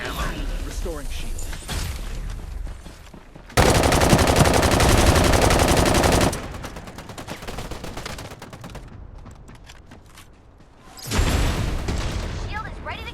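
A video game shotgun blasts loudly in bursts, with dense gunfire runs and sharp booms between quieter stretches, while a voice talks over the action.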